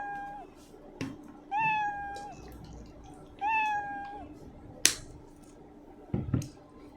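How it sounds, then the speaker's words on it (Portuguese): Cartoon cat meow sound effect from a Scratch coding program plays three times in a row, each a clear rising-then-falling mew with a pause between, followed by a couple of sharp clicks. "Vamos ver se esse gato aí tá miando 3 vezes mesmo"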